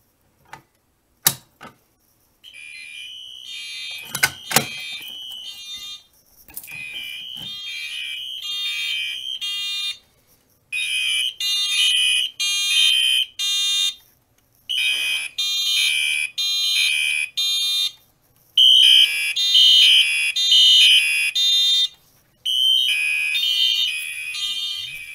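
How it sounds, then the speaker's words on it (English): A building fire alarm sounds after a manual pull station is pulled during a wall test, a loud repeating electronic tone pattern in bursts with short gaps, preceded by a few clicks and knocks. "So now once this boots up, we can pull the desk pull station."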